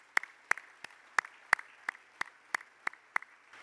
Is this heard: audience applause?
yes